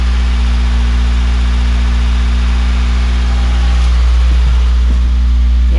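A Nissan Micra K10 idles steadily with its automatic choke engaged, a loud, close, even engine drone that holds unchanged throughout with no talking.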